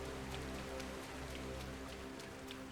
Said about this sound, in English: Rains a lot in this game.